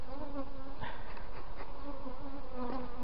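Honey bees buzz steadily around an open beehive during an inspection, a dense close drone with individual bees passing near, continuous with no talking.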